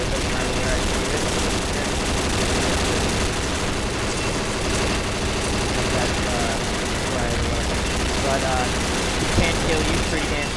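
Dense, continuous gunfire from the online shooter Combat Arms, sustained bursts at steady loudness over a busy game mix, with someone talking over it throughout.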